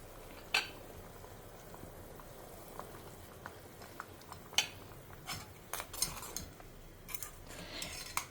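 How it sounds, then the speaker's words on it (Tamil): Black chana and sundakkai vathal kuzhambu gravy simmering in a pot, faint soft bubbling with a few scattered clicks and pops, quiet and close, with no talking. "ஒரு 2 மினிட்ஸ் கொதிக்கட்டும்."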